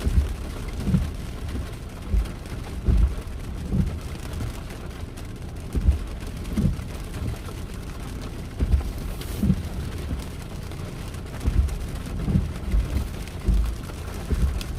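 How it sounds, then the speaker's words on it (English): Steady rain pours during a tropical storm, a continuous wash of drops with recurring low rumbles, heard alone without voices. "You can hear that rain coming down."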